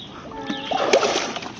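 A swimmer in a swimming pool spits out water, a short wet splutter and splash rising midway through the clip over steady pool ambience.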